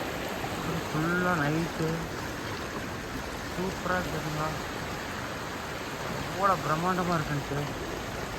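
A steady rush of clear flowing stream water runs continuously at moderate level, while someone talks over it in short bursts.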